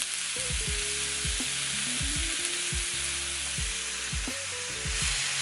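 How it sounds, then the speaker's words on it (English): Steady, loud sizzling of a Philly cheese steak and melted cheese on a hot cooking stone fills the whole clip, with a low tonal hum and shifting pitches running underneath the crackle. "let me show you all my cheese sizzling it up."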